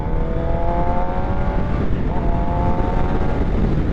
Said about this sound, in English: It's got an excellent sound stock with the stainless 4-into-1, and it's got a titanium muffler.